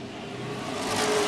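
A pro race truck on a Florida track builds in engine pitch and loudness over a second or so as it approaches and passes, a rising, whining roar.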